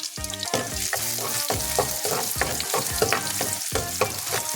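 Garlic fries in cooking oil at the start of a Filipino squid and long bean adobo, sizzling loudly and close with repeated rhythmic scraping as it is stirred, and no voices.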